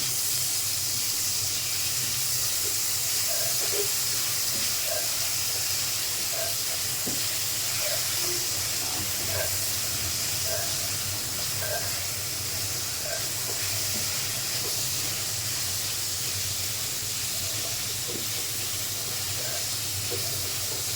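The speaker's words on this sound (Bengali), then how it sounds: "পেঁয়াজ বাটা ভাজা হয়ে গেছে।" A constant hiss of onion paste frying in a pan, steady and fairly loud throughout, with faint scattered pops and clicks.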